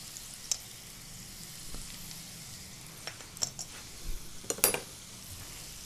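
Spices being stirred into tinda curry in a pan, a soft steady sizzle with a few sharp clinks and scrapes of a spoon against the metal, close and fairly quiet.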